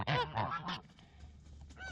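Farm geese honking while feeding on ripe apricots beneath the trees, three loud close honks in quick succession, then quieter rustling and faint calls.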